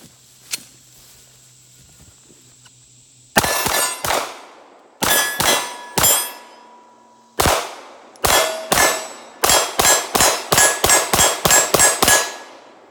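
Steel targets ring sharply as shots strike them during a shooting drill, about fifteen clangs in quick irregular bursts, close and loud with short ringing decays and quiet gaps between.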